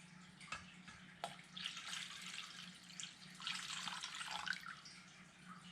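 Cold water poured from a tap into a bowl of dissolved jello mix, a soft running splash that rises and falls over a few seconds, fairly quiet and close, with brief clinks and no talking.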